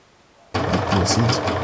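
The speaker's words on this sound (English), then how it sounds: "Proceed to stitch the two sides of the bag" A sewing machine stitches the two sides of a fabric drawstring bag, starting abruptly after a brief quiet moment and then running at a steady, close, loud whirring hum with fast needle chatter.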